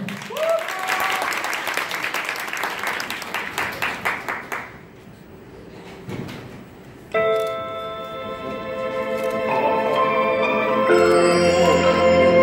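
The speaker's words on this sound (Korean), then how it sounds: "다시 한번 큰 박수로 맞이해보도록 할까요? 박수 크게 부탁드릴게요." An audience in a Gangnam K-pop showcase hall applauds to welcome a stage performance. Loud, thick clapping fades out over several seconds, then a brief lull gives way to music starting up.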